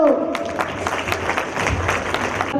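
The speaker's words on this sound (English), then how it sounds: "one more round of applause for this girl" Crowd of parents clapping at a school annual day function, a dense steady round of applause in a large hall, fairly loud and continuous with some crowd murmur underneath.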